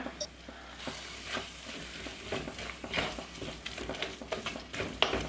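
Crab biryani masala with ground garam masala sautéing in a pan, a steady close sizzle broken by scraping stirs and occasional clinks of a spoon against the pan, with no voices.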